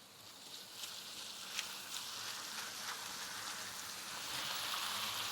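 Spinach wilting and cooking down in a hot pan gives a steady, even sizzle and crackle, a soft rain-like hiss that holds throughout without talk.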